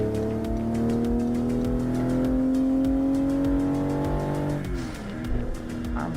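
A Toyota Supra MK5 engine in the American Truck Simulator game holds a steady, rising tone that climbs gradually, then drops sharply near the end as the revs fall, with some tire noise after.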